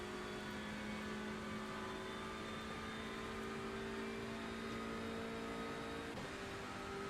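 An Audi race car in iRacing at Daytona drones steadily with a sustained engine whine and constant tonal hum, held at near-even pitch and loudness throughout, with no talk.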